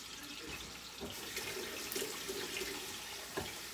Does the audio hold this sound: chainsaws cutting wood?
no